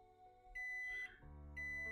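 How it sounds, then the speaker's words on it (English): A video game alarm rings through a room in short electronic beeping tones with a brief gap between them, clean and fairly loud, with no voices. "Suddenly the sound of an alarm resounded throughout the room"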